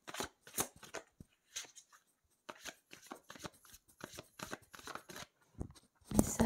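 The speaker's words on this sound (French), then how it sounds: "Je fais tomber toutes mes cartes." Tarot cards slap down and shuffle in bursts of quick papery flicks and riffles, close and fairly quiet, with short pauses between handfuls.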